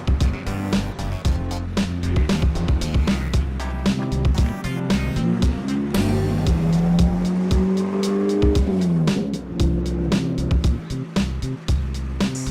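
A McLaren supercar runs in a car racing game with a continuous engine drone and shifting revs over steady music, plus brief tire squeals, loud and close throughout.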